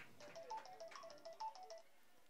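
A faint mobile phone ringtone going off at a youth baseball game between Spanish Fork and Provo, a quick repeating electronic melody of short bright tones for about two seconds, quiet and alone.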